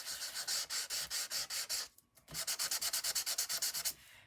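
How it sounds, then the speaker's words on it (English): Fine sanding paper lightly rubbed over Lost Lagoon cardstock in short, quick back-and-forth strokes, close and clear, with a brief pause partway through before the rhythmic rasping resumes. "But I am just lightly sanding it."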